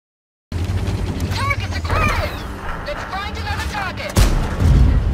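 A tank cannon in World of Tanks fires with a heavy boom near the end, preceded by battle noise, engine rumble and whistling shell sounds; a voice speaks over it.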